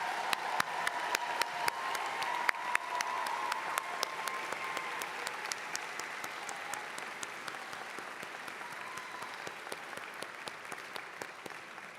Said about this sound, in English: Please join me in a round of applause for our doctoral degree recipients.